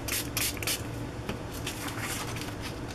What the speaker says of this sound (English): These are all oxides, so I'm going to try spraying it and see what happens.